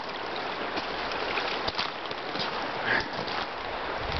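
Spring floodwater pours across a road where blocked drainage has let it spill over, a steady, broadband rushing and gurgling of flowing water that continues throughout, close by and fairly loud.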